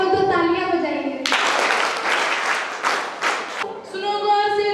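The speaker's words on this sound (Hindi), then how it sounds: "हो तो तालियां बजाइए।" An audience claps for roughly two and a half seconds at a patriotic Hindi song performance, the applause breaking in between stretches of sung or amplified voice.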